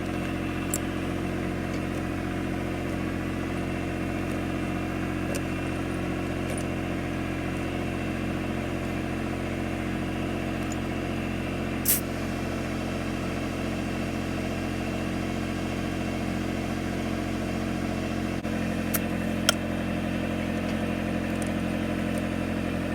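Massey tractor engine running steadily while rolling onto tire chains, a constant low droning hum with harmonic layers, moderately loud and unchanging, with a few faint clicks and a sharp tick near the middle.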